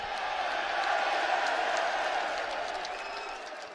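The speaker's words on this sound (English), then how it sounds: "the crowd's that loud, I can't even hear you" A loud arena crowd at the UFC 304 event roars in a dense, steady wash of noise that fills the whole stretch, easing only slightly toward the end.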